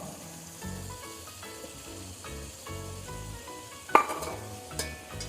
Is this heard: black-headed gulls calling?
no